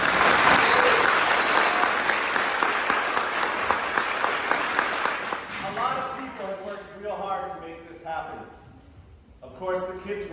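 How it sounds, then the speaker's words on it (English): An audience at a 2023 fifth-grade promotion ceremony claps loudly and steadily for the graduating kids. The applause fades after about five seconds and a voice starts speaking over the last scattered claps. "So a big round of applause for them."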